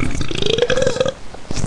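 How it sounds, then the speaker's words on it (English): A single close, loud human burp with a rising, voiced pitch lasting about a second, followed by brief quiet and a faint exhale. "Just had the burp."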